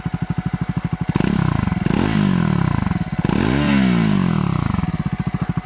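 A Triumph Scrambler 400x motorcycle engine idles with a rapid, even thump and then revs up several times, rising and falling in pitch, close and loud, with no talking.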